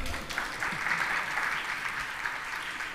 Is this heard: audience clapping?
yes